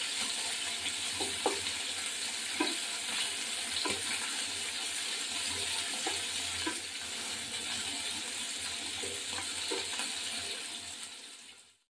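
Fish frying in oil in a pan, a large fish in a home kitchen, gives a steady close hiss of sizzling with scattered small pops and crackles throughout, alone without talk.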